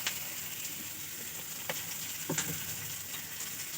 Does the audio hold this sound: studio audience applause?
no